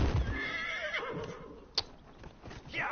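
A horse in a video game whinnies with a rising, wavering call, followed by a sharp knock, soft hoof sounds and a second brief neigh at the end.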